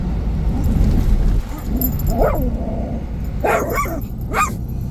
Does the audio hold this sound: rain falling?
no